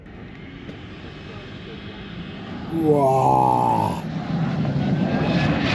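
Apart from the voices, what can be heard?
fan car spooling up and launching on race track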